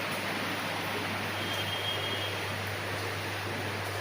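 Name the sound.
heavy rain falling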